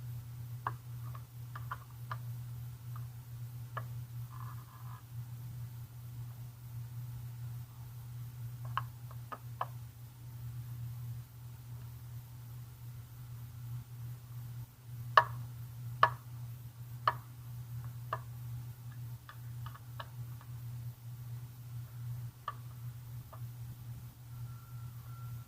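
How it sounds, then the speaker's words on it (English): A plexiglass H2C windshield on a Honda CB300R motorcycle gives faint, scattered clicks where it sits under tension on the bolt threads. The sharp ticks come at irregular intervals over a steady low hum, with a few louder snaps near the middle. "The clicking you hear is the plexiglass because it's under a little bit of tension there where the threads of the bolts are."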